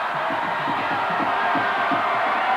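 Huge crowd at the Berwick Bulldogs vs Sharon Tigers PIAA Class AAA state title football game, chanting and cheering in a loud rhythmic pulse of repeated shouts over a constant roar.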